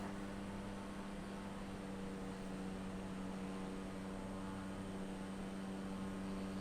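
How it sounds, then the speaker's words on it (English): A small single-engine plane climbs out just after takeoff in clear weather, its steady engine drone and propeller hum filling the cabin continuously and evenly, with no talk over it. "I love flying this plane."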